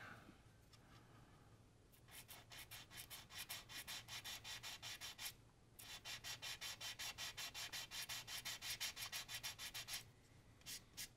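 A surface filled with CA glue and primer is hand-sanded in quick, even back-and-forth strokes. The scratchy rasps are quiet and close, come in two long rhythmic runs with a brief gap between them, and no one speaks.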